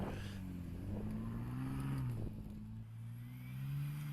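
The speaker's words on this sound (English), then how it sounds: "You definitely can hear the turbo spooling in it." A 2022 Ford Bronco Raptor with a 3.0 turbo engine revs at moderate distance, its pitch rising and falling steadily with a faint turbo whine above.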